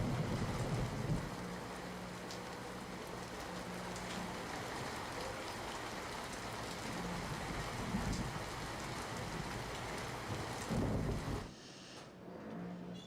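Widespread early-morning rain in Botad falls steadily as a broad, even hiss, fairly faint and distant, with a low rumble near the start and end before it suddenly quiets.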